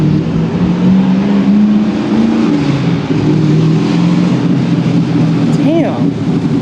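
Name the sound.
car engine revving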